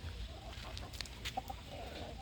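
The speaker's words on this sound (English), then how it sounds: "She is one greedy chicken." A greedy hen in a backyard vegetable garden gives a few soft, brief clucks against a steady outdoor background, fairly faint and somewhat distant, with no one speaking.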